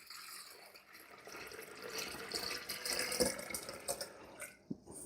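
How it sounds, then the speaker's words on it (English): Water pours from a container into the top-fill tank of a Homvana 3.6L humidifier, a steady trickling splash that swells midway and tapers off with a few drips near the end, quiet and close, with no one talking. "So we're just gonna pour some water in."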